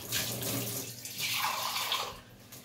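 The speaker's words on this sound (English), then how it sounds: "I'm going to put roughly about half cups of water." Water poured into a cooking pot in a home kitchen, about half a cup, a steady splashing gush that swells and ebbs over a couple of seconds, close and alone with no talk.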